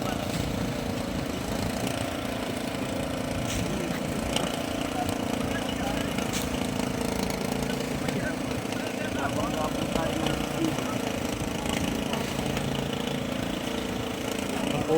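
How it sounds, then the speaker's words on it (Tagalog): Two single-piston engines on a small fishing boat at sea, a steady droning rumble running continuously and fairly close, with faint voices and wind underneath. "O ay dalawang makina na single piston."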